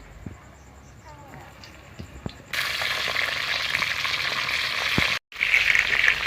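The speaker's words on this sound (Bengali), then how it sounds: "তো পটলগুলো আমাদের ভাজা হয়ে গেছে" Sliced pointed gourd (potol) frying in hot oil in a wok over a lit clay stove, a loud continuous sizzle that starts abruptly after a few quiet clinks, briefly cuts out, then resumes.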